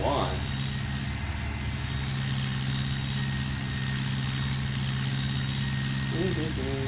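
A tractor engine in Farming Simulator 17 idles loudly in a steady, even drone throughout, with a brief tonal blip at the start and near the end.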